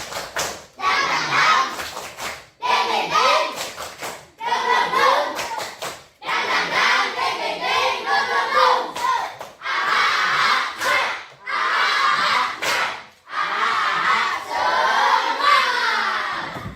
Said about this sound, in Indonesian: Tepuk semangat yang meriah.